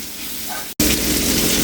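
Crushed green chillies, ginger and garlic sizzle loudly in a hot pan for a Kerala-style tilapia biryani, a steady hiss that cuts out briefly and returns even louder as the aromatics hit the oil.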